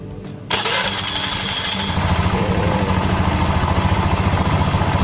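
After a short quiet moment, a Honda scooter with a freshly repaired starter cranks and catches, then settles into a steady, close idle with an even, rapid putter.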